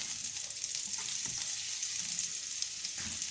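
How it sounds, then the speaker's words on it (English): Diced onion and garlic sizzle steadily in a hot pan as a base for a cauliflower dish. A constant bright hiss runs throughout, with soft scraping stir strokes breaking through now and then. "You add the diced onion, the garlic, just try to mix it."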